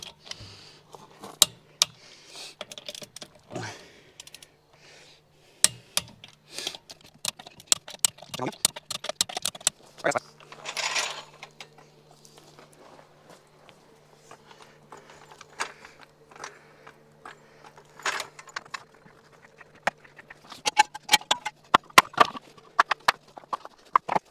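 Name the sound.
torque wrench tightening lug nuts on Toyota Highlander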